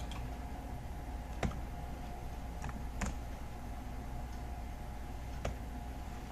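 Sparse mouse clicks and keyboard key presses during Inventor 2022 3D modelling, a few sharp isolated taps spread over several seconds against a steady background hum, with no talking.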